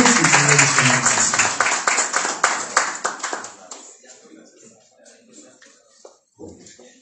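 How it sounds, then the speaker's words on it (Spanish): Applause at a municipal press conference, a burst of quick hand claps from a small group that thins out after about four seconds, with faint murmuring and a brief voice following. "Fuerte el aplauso de los demás"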